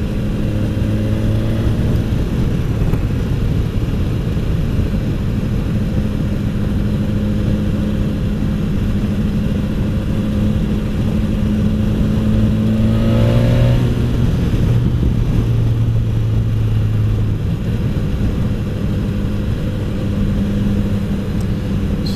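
BMW S1000XR motorcycle doing a fifth gear roll-on, a loud close engine drone that rises steadily in pitch as it accelerates, eases briefly and then pulls again, with wind noise and no talk.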